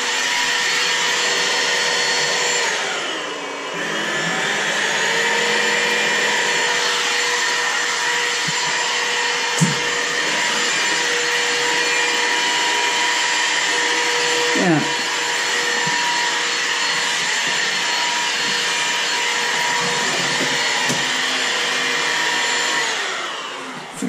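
A Riccar 100 vacuum cleaner runs steadily at close range, its loud motor whine holding level throughout with a brief dip near the start and a few faint clicks and bumps.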